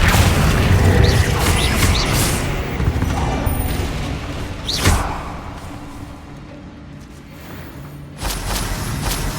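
Confringo blast spells in Hogwarts Legacy erupting in heavy booms and a sharp crack midway, with rumbling battle noise and another burst near the end, loud and up close.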